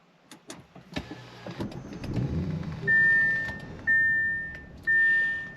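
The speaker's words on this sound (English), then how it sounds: "when the vehicle starts, the steering wheel will lower to your last memory position, and so will the seat" A 2022 Audi S7 Prestige starts up with a few clicks and a low rumble, then the power steering wheel and seat motors whine steadily in three separate bursts as they move to their memory positions.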